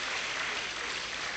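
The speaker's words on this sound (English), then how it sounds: "Please, let's give them all a round of applause." A dense, even burst of audience applause at a university lecture fills a brief moment at steady loudness, with no voices standing out.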